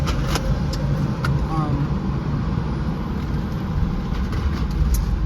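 A train rumbles steadily past in downtown Newark near Penn Station, a continuous low roar with faint higher clatter running throughout amid city noise.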